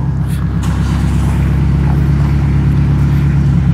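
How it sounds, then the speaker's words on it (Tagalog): Car exhaust idling steadily at close range, a deep continuous low rumble with a smooth, even drone and no revving, quiet overall with no talk. "pakinggan natin yung exhaust"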